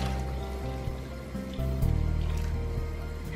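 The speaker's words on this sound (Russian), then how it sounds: "Теперь добавляю соль и необходимое количество воды" Water poured into a pot of vegetable soup with rice and tomato, a steady close liquid fill that deepens and grows louder partway through, alone with no talk.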